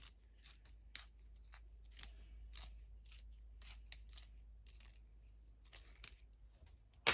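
A pencil is sharpened by hand at an art table, giving a quick run of short, dry scraping bursts in an uneven rhythm, close and fairly quiet, with no talking.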